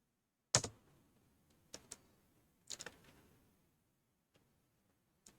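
A few scattered keystrokes on a computer keyboard while a short password is entered, faint isolated clicks separated by quiet gaps in an otherwise silent room.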